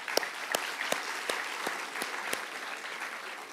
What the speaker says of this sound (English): let's give an applause for that